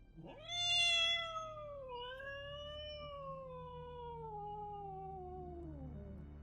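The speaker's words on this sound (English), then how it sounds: "A black cat suddenly leapt out in front of us." A black cat gives one long, drawn-out meow, loud and close, its pitch rising and then slowly falling over several seconds, with a low background rumble underneath.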